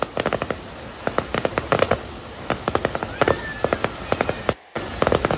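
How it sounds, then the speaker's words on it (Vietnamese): Fireworks bursting over a villa compound on New Year's Eve in Vietnam, a dense run of sharp cracks and pops in irregular clusters, fairly close and loud, with a brief silent gap before the bursts resume. "Đây chính là pháo bông của khu nhà mình đấy."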